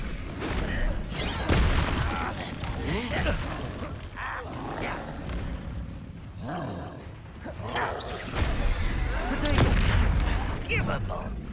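Repeated explosion-spell blasts in Hogwarts Legacy burst through a dense, busy battle mix of impacts and creature noises, with someone speaking over the fight.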